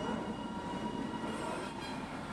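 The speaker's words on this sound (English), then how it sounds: "Black smoke and the hissing sound of steam emanate from a train leaving the Vatican" A steam train pulls out of the Vatican bound for Castel Gandolfo, its steady broadband hiss and rumble of rolling wagons filling the scene continuously and fairly close, with no voices.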